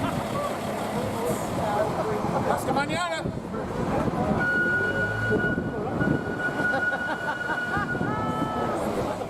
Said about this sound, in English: We joined the train outside our hotel in Rosses.